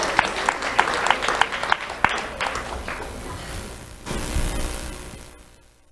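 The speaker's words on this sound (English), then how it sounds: "Let's have a round of applause for Dania Ayala Alfaro." Audience applause at an awards ceremony for a school honoree, a burst of individual claps in the opening seconds that thins out, then a second swell of crowd noise before fading away.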